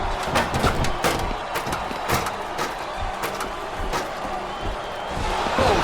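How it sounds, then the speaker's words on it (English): A wrestling arena crowd cheers and roars in WWE SmackDown vs. RAW 2007, a steady loud wash of fan noise punctuated by thudding slams and impacts from the ring, with commentary voices talking over it. "Now the fans start to cheer for him."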